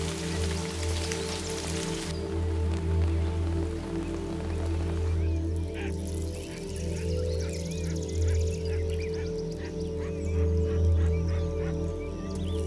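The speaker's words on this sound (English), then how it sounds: "But as summer arrives, so too do the first rains." First summer rains falling in a wild dung beetle habitat, a steady patter of drops on surfaces continuing throughout, with faint bird calls joining partway through against a constant low background rumble.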